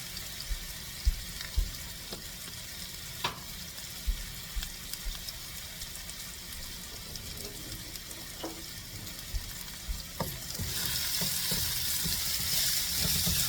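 Tempering spluttering in a hot vaanali while grinding masala for village-style fish curry: steady frying sizzle with scattered sharp pops and crackles, swelling into a louder, denser hiss near the end, no talk.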